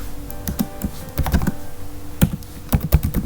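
Python code being typed on a computer keyboard: irregular clusters of crisp key clicks, some quick runs and isolated taps separated by pauses, close and moderately loud, with no talking.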